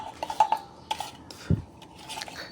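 A spoon stirs ground spices, chili powder and sugar in a cooking pan while preparing aar fish, giving a few light metallic clinks and short scrapes spread unevenly over a couple of seconds, close and fairly quiet, with no talking.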